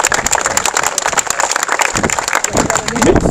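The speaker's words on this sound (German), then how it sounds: "kriegt einen ganz lauten Applaus" Dense, steady applause from a large football crowd in the rain, with a voice speaking over the clapping throughout.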